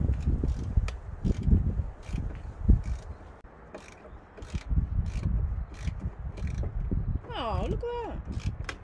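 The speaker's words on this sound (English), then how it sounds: "I think that's just spinning the bolt." A wrench spins a bolt on a minibus during a campervan conversion and rust treatment job, giving a run of repeated ratchet-like clicks. People talk over it.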